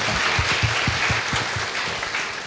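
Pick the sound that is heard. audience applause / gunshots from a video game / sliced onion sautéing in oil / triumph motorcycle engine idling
audience applause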